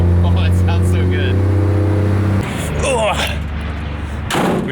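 Idling 12-valve Cummins diesel pickup truck gives a loud, steady low rumble that keeps going through the clip, with a sharp knock or slam partway through and a short burst of noise near the end.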